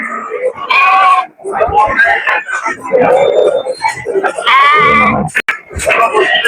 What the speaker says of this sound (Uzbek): Mana do'stlar, Tojikistonning hisor qo'ylaridan.